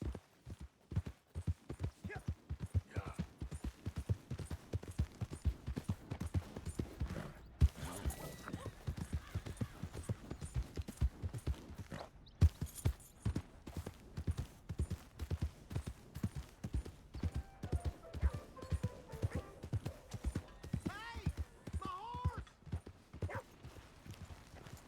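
Horse hooves clip-clop steadily in Red Dead Redemption 2, a long run of evenly spaced, close and distinct hoofbeats with brief pauses and faint game ambience behind.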